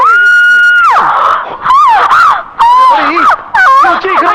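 A woman screams in a Hindi horror film scene set in a haveli, in loud, shrill, wavering cries that break into several bursts with short gaps.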